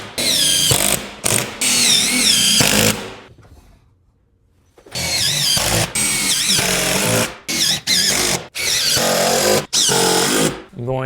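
A power drill drives screws into wall studs while prepping a fireplace wall for Versetta Stone, with loud whirring bursts that rise and stop repeatedly, close by, with one quiet pause in the middle.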